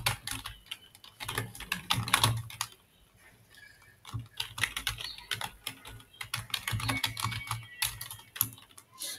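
Someone types quickly on a computer keyboard, close by and fairly quiet, in irregular bursts of clicking with a brief pause partway through.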